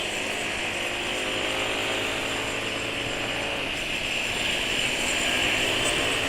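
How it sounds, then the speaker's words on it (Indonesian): A Yamaha NMAX scooter engine accelerating, a steady loud buzzing drone that rises slightly in pitch and intensity toward the end, with no talking. "Tarikan mesin lagi enak."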